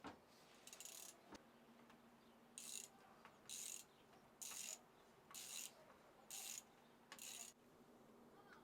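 Socket wrench with an extension turning an Allen bolt deep inside a retro VLS elastomer mountain bike suspension fork, giving seven evenly spaced quiet ratcheting bursts, each about half a second, close and alone.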